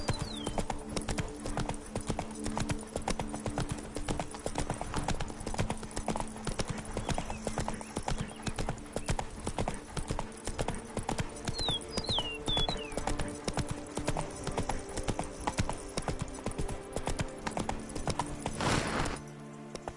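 A horse's hooves clip-clopping at a steady trot in The Witcher 3, close and continuous, with a brief whinny and faint ambient game sounds underneath.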